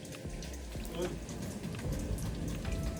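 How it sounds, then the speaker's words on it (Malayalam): Rain falling in Sharjah, UAE, a steady wash of drops pattering on surfaces close by, with a low murmur that may be wind running underneath. "ഒരു മഴ മൂടിച്ചും കാറ്റൊക്കെ ഉണ്ടായിരുന്നേ"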